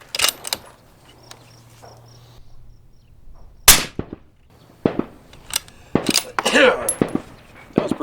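Suppressed 9mm pistol fired with an Exigent Defense Pointman9 suppressor, outdoors: a few sharp, muffled cracks spaced irregularly over background quiet, one clearly louder than the rest.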